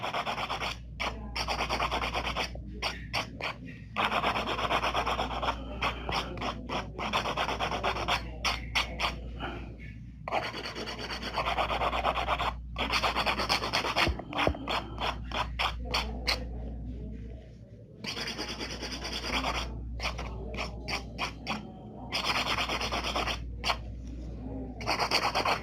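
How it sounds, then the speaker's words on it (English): Fingernails are worked with a hand file and buffer during an ombre nail application, giving close, rhythmic rasping strokes in repeated bursts separated by short pauses. "go to the hand file and then just buffing again and rebuff and refile"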